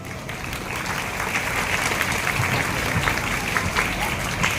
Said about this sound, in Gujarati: ખૂબ જ બધી તાળીઓથી વધાવીશું